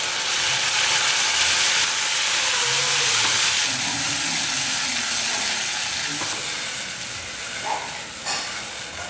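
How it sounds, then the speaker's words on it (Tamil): Tomato and onion sautéing in oil, a loud, dense, continuous sizzle and hiss close by that eases slightly toward the end, with a faint clatter of stirring and no voices. "இந்த தக்காளி வெங்காயம் எல்லாமே நல்லா வதங்கணும், இந்த எண்ணெயிலே வதங்கும் போது நல்லா இருக்கும் டேஸ்ட்டு"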